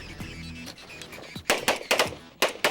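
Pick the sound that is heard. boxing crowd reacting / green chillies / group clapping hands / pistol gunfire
pistol gunfire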